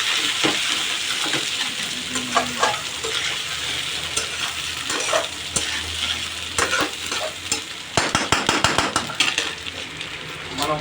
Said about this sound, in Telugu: తిప్పుకోవాలి.